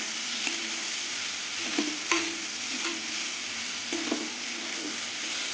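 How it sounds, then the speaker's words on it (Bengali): Turmeric frying in oil in a pan, a steady bright sizzle throughout with a few soft scrapes and knocks of a spatula stirring, close and alone without voices. "হলুদ দিয়ে কিছুক্ষণ ভাজিয়ে নেব এই ভেজে নেব"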